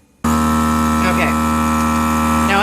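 A vacuum sealer's motor starts abruptly and drones with a steady electric hum and buzz as it pulls the air from a bag holding Chex Mix, the tone holding even throughout.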